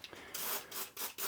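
A thread repair tap being turned by hand into aluminium on a lathe using the tailstock, a faint close gritty scraping and rubbing in short uneven strokes, with no talking.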